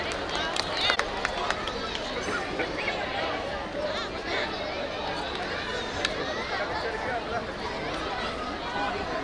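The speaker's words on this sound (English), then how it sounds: "Let's welcome her with a big round of applause" Audience at a school annual function at G.D. Goenka School, Varanasi, claps for the academic head in a dense, steady wash of applause with crowd chatter mixed in throughout.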